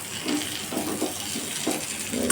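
Water poured into a cooking pot of drumstick vegetable curry on a gas stove, a short continuous splashing pour, close and fairly loud, no talking.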